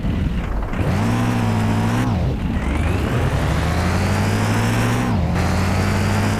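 A heavy truck engine in the video game Car Parking Multiplayer roars loudly and continuously, its pitch climbing and dropping as it revs between gears, with no talking.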